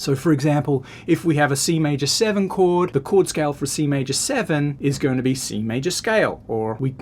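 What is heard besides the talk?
No distinct noise like a dog, phone or traffic.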